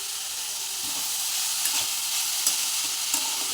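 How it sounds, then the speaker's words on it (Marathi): A spoon stirs a corn and coriander mixture in a hot pan, and the mixture hisses and sizzles steadily throughout. Scraping strokes from the stirring come through at irregular intervals. "परत छान असं हलवायचं, मिक्स करायचं."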